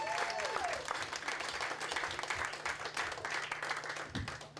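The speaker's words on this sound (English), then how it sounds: "Keep it going for Mel Garlick, ladies and gentlemen." Sustained applause and clapping from a late-night Friday comedy club audience, steady and dense throughout, with a brief tone early on and no speech over it.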